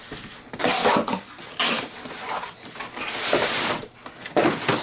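A package box holding a DeWalt DCN930B 20V MAX brushless cordless paper-tape framing nailer is cut open, giving close, bursty scraping and tearing of cardboard and packing in uneven strokes.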